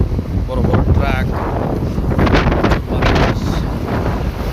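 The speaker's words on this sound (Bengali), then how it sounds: "সাউথ আফ্রিকা প্রচুর বৃষ্টি হচ্ছে এমনকি বাতাস।" Strong wind gusts buffet the microphone during a heavy rainstorm in South Africa, a loud, continuous rushing roar with surging bursts and faint background sounds beneath.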